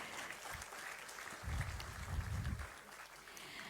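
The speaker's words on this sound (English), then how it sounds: "Can we have a huge round of applause?" An audience at a women's award ceremony applauds a finance secretary's introduction, a soft crowd clapping that swells in the middle and then tapers off, fairly distant and low in level.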